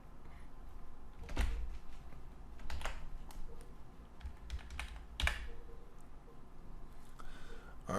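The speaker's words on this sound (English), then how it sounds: "And I type in the closing PHP tag." Keystrokes on a computer keyboard while code is entered, a few sharp clicks spaced apart over a low steady room hum, close and moderately quiet, with no voices.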